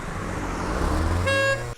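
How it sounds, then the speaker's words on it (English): A car horn blares in one steady sustained honk at another driver on a street, rising over a low rumble of passing traffic near its end. "Why is he beeping him?"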